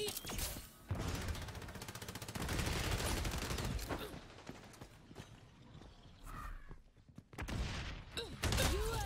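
Dense gunfire from the first-person shooter XDefiant, rapid automatic bursts and sharp shots layered with explosions and in-game effects, loud and continuous with brief lulls.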